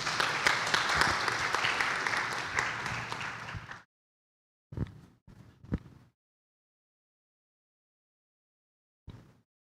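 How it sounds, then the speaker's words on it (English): Conference audience applauding to close a session, a full burst of clapping from many hands that fades out, followed by a few scattered late claps after silence. "I would like to close the session with a round of applause"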